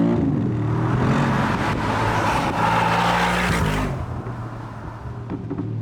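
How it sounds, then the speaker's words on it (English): Urban G700S Mercedes-AMG G63 accelerating hard through the gears: a loud, rising exhaust roar that builds for about four seconds, then drops sharply at the shift and settles into a lower, steadier drone. "I'm going to go through the gears now."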